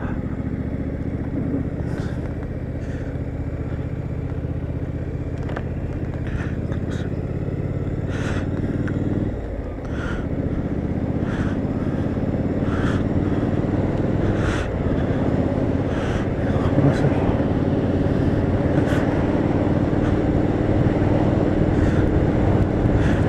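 Triumph Street Scrambler 2017 twin-cylinder engine with a 5-speed box, running steadily while riding, a constant loud drone with low harmonic bands and some wind rush, alone without talk.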